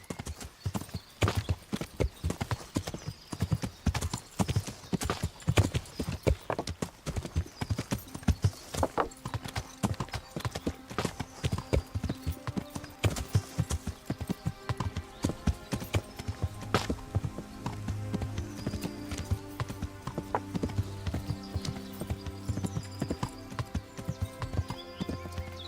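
Horse hooves clip-clop steadily during riding in a video game, a long run of rhythmic close thuds with occasional snorts and a low musical background.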